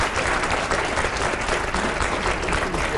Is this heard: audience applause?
yes